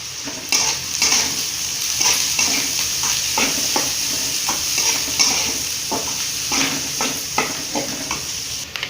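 Onions sautéing in a pan with a pinch of asafoetida for a drumstick leaf poriyal, a loud, continuous sizzle under quick, repeated spatula scrapes and stirs, up close.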